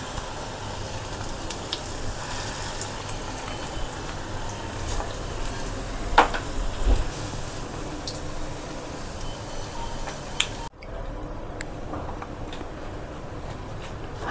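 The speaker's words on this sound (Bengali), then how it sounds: "আর এই পকোড়াগুলোকে দুবারে ভাজবো।" Moong dal pakoras frying in hot oil give a soft, steady sizzle that runs throughout, with a few faint clinks and one brief clatter partway through.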